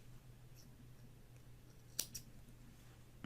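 Pointed scissors snip the yarn end close to a finished crochet granny square, giving one sharp close snip and a softer follow-up click over a faint low room hum, with no talking.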